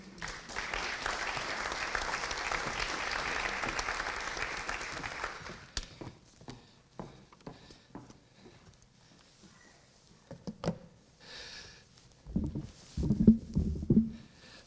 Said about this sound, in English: So let's give Chief Yankee a round of applause.